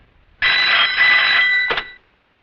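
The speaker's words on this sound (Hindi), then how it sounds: "जरा शिर्के को फोन लगा," A telephone bell rings loudly in a police station office, one sustained burst of about a second and a half followed by a brief second ring, with no talk over it.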